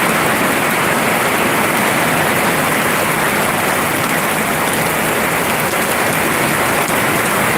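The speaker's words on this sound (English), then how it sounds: "Now the rain is coming down." Heavy rain pours onto a metal roof during a thunderstorm, a dense, steady hiss that stays loud and unbroken throughout with no voices.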